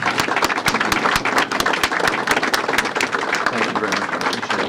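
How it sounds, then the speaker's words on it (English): A crowd gives a sustained round of applause for a state Attorney General at a public event on police bulletproof vest partnerships, dense clapping filling the room steadily from start to finish. "So please join me in giving the Attorney General a round of applause for that."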